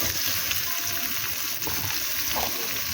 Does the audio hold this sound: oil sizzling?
yes